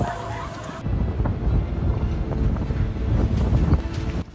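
Fierce wind gusts across an open parking lot, roaring and buffeting the microphone in a loud, continuous rumble that swells and eases for the whole stretch.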